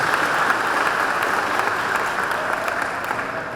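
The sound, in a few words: applause for church leadership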